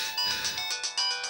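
A telephone ringtone plays a bright, repeating electronic melody of quick pulsed notes, loud and close, with no talking over it.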